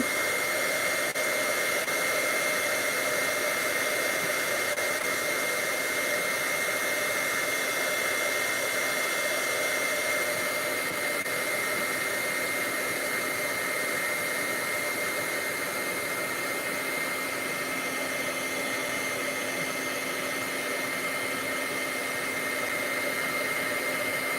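A heat tool melts embossing powder for stamped papercraft with a constant loud, breathy fan-like hiss and whine that never changes over the whole stretch.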